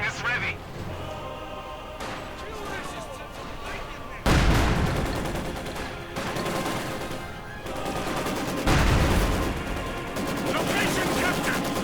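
Mortar blasts and gunfire in Company of Heroes 2, heavy booms landing around 4 and 9 seconds over steady rattling small-arms fire, with battle clatter continuing between them.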